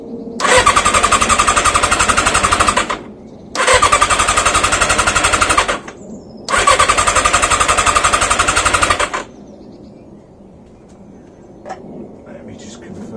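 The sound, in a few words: engine cranking with choke on full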